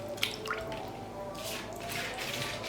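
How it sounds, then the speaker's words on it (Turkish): A rolled-out yufka pastry sheet is brushed and soaked with sauce in a baking tray, giving soft wet dabbing, squishing and dripping sounds up close at a low, steady level. "Şu şekilde açtığımız yufkayı böyle karıştıra karıştıra sostan her yerine sürüyoruz."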